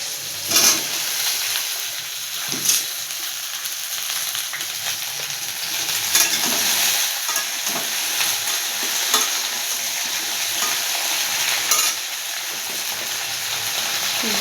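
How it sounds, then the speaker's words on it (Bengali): Potatoes and okra sizzle and fry steadily in a pan, with a constant bright hiss broken by occasional louder crackles and stirring scrapes, close and continuous with no talking. "এর মধ্যে আমি আলু আর ভেন্ডিগুলো ঢেলে দিলাম।"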